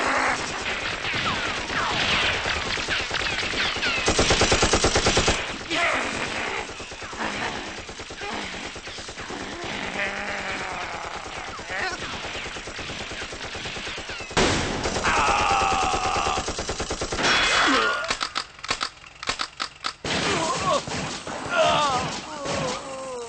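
Machine gun fire in an anime, loud dense bursts of rapid shots and impacts mixed with music, effects and voices, with staccato strings of gunfire toward the end.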